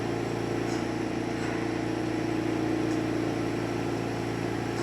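A mini torch flame fed by an oxygen concentrator gives a steady, even roar and hiss that holds without a break, with a low hum running beneath it.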